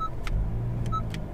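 A Honda NSX drives in its quiet mode with a soft, low engine rumble that stays steady. A few faint clicks sit above it, and no one speaks.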